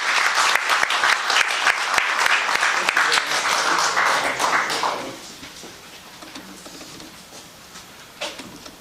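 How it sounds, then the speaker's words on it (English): A lecture audience applauds a professor being introduced to speak on Korean literature, with loud, dense clapping for about five seconds, then a quick fade to scattered claps and a quiet room. "let's welcome Professor Ross Kim with a big round of applause"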